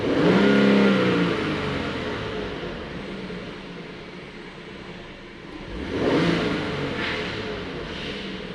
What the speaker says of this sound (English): I'm gonna raise the RPM and see if we can get some misfire here.